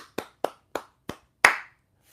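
Hands clapping alone in a quiet room: five sharp, close claps at a slow, steady pace, the last one louder and ringing slightly longer.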